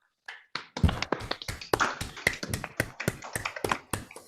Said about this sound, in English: So I suggest we unmute ourselves for a round of applause